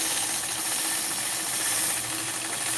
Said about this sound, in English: engage the machine and then I'll stitch along that curve.